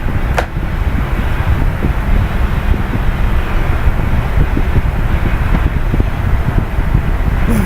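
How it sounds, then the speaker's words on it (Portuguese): Strong wind blows in a continuous loud rumbling roar, buffeting steadily throughout with heavy low-end gusting noise and no other sounds standing out. "Um vento forte"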